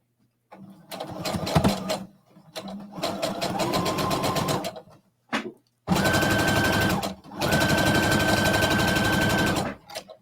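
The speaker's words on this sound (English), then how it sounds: "now we're just going to sew around the hood" A sewing machine stitching around a hood with a 3/8 seam allowance runs in several close bursts of rapid, rattling needle strokes, separated by short pauses, with the longest runs near the end.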